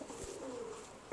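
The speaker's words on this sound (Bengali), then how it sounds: "এই ফার্মে প্রচুর কবুতর আছে" Pigeons at a foreign-breed pigeon farm coo faintly in a quiet space, a soft low murmur lasting about a second before a brief louder rustle at the end.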